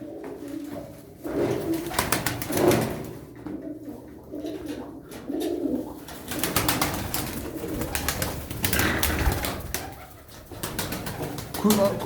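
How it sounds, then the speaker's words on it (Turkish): A flock of fifteen tumbler pigeons, kept as play birds, coos steadily in soft overlapping murmurs, with occasional wing flaps and someone speaking intermittently nearby. "15 tane kuş arkadaşlar. 15 tane oyun kuşu."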